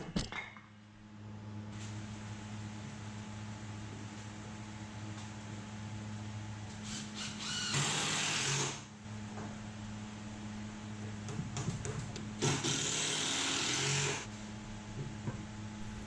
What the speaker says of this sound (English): I can use a skill saw and cut off the excess